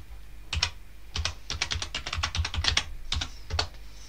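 Fingers tapping out a password on a computer keyboard, close up: short bursts of crisp key clicks with brief pauses between, no voice.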